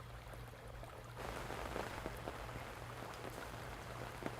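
Rain falling in a nature ambience mix meant as a rainy riverside camping scene, a steady broadband hiss of drops that thickens after the first second and carries on evenly with no talk.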